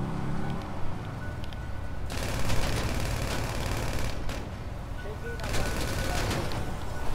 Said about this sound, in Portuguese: Tô aqui trocando tiro com o Breno